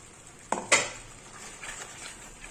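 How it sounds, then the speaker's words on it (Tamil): Tomato pickle being stirred after ground fenugreek and mustard powder is added, two sharp spoon-against-pot scrapes close by followed by softer faint stirring and clinks, no talk. "இதை நல்லா கிளறி கொடுத்துக்கலாம்"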